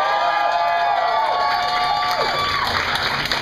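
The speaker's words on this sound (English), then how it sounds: "give him a big round of applause" Bar audience claps and cheers for a bartender at a long-running comedy show, a steady, loud wash of applause with whoops, a sustained tonal sound running underneath.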